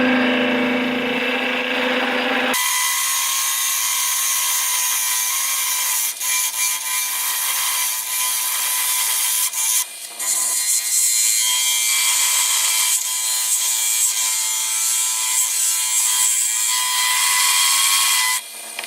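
A wood lathe turns an unidentified wood with traditional hand turning tools, giving a loud, steady scraping and rubbing hiss that runs almost unbroken after a quieter start, with brief dips as the tool shifts.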